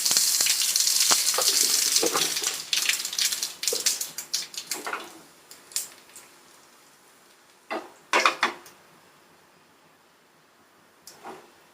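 Dried red chilies hiss and sizzle in hot oil, loud at first and then fading, with scattered clinks of a utensil against the pan.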